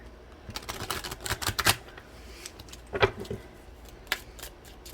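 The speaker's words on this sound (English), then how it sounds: "Let me shuffle this a little better." Quiet, quick riffling and clicking of tarot cards being shuffled, in short clustered bursts with brief gaps, close and faint with no talking.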